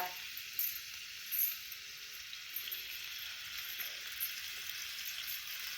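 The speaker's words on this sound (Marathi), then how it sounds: "कांदा परतायचा" Onion frying on a wood-fired clay stove for village-style besan pithla, a steady soft sizzle and crackle running without a break, with a few brief louder pops and no talk.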